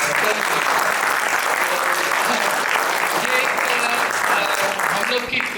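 Sustained theatre audience applause for a stage play, a dense, even wash of clapping from a crowd that holds steady throughout.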